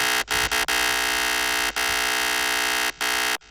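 A loud, bright compressed synth lead plays sustained notes with short gaps between them, switching between processed and bypassed versions, with no voices.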